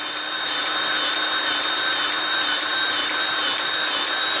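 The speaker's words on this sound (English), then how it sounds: "it's a electric grease gun or a manual grease gun, and your measurement gauge, we're going to put that on that grease fitting and then apply grease." An electric grease gun pumping grease into a Bobcat T76 track fitting runs as a loud, steady motor whine with a faint rhythmic ticking, close by and uninterrupted, with no talking.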